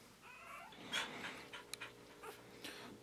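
A newborn poodle puppy gives faint, soft whimpers and squeaks in short bursts close by, with quiet panting and breathing sounds in a calm indoor setting.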